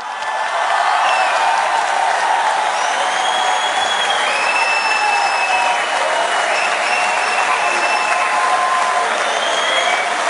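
Sustained, loud applause from a large audience at the WorldSkills 2023 opening ceremony in Lyon, steady dense clapping filling the whole stretch with a faint crowd murmur and scattered whistles above it.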